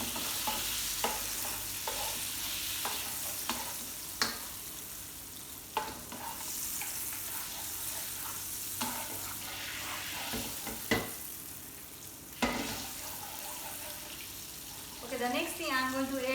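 Butter sizzles in a pan while lobster thermidor is prepared, a steady frying hiss broken by occasional clinks and scrapes of a utensil, with a voice talking faintly under it.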